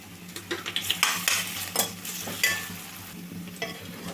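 Ginger garlic paste fries in a pan, giving a close sizzle broken by scraping stirs and light clinks of a utensil against the metal, with a handful of louder bursts.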